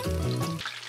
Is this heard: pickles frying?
yes